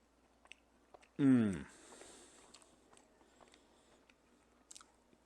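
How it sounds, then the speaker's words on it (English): One crisp, close bite into a bacon cheese scone, followed by faint chewing and small mouth clicks in a quiet room. "Let's take a bite of my bacon cheese scone."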